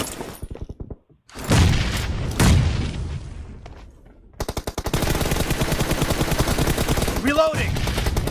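Rapid automatic gunfire rattles in a team deathmatch video game, with sharp bursts, a short lull, then sustained fast firing, while voices talk faintly over the action.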